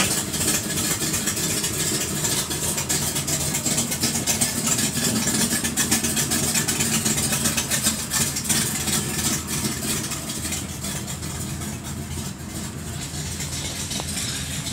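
A 1972 Oldsmobile Cutlass engine runs steadily in a yard as the car is put in gear, a constant loud rumbling drone with no pauses throughout.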